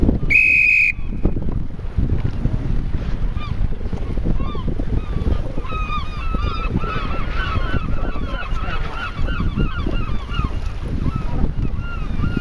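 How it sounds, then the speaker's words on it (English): Whistle blown at the finish of a sailing race, a short shrill blast at the start, followed by waves and wind with scattered bird-like squawks and faint voices in the background. "They like your whistle, mate."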